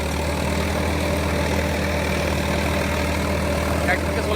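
A tractor-driven rotavator runs at a steady 1600 RPM, giving a continuous, loud, low engine drone with an even mechanical hum and no breaks or knocks, close to the microphone.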